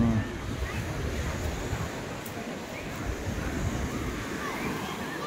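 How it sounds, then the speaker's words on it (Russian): Sea waves roll in at Arkhipo-Osipovka on the Black Sea coast while a breeze picks up. The surf makes a continuous, fairly loud wash, mixed with gusty wind noise on the microphone. "Волны чуть-чуть увеличиваются, ветерок пошел."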